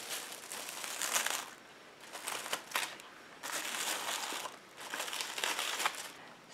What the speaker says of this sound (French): Donc, je couvre avec un papier film.